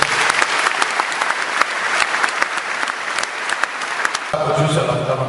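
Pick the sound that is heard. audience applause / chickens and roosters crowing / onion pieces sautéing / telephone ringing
audience applause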